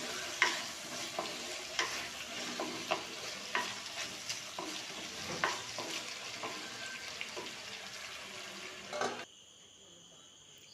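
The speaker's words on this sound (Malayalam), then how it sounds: "കുറച്ച് ഉപ്പും മഞ്ഞൾപ്പൊടിയും ഇട്ടാണ് ഇളക്കുന്നത്." Vegetables with salt and turmeric stirred in a pan, a steady scraping and sizzle with repeated spoon knocks for about nine seconds, then near silence with a faint hum.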